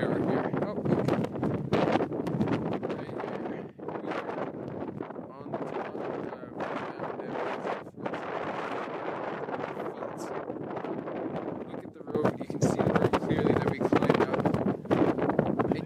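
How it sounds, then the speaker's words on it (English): Heavy mountain wind roars and thumps against the microphone nonstop on Mount Evans, the highest paved road in North America, with a voice speaking underneath through most of it. "Sorry in advance for all the wind noise. It is extremely windy up here,"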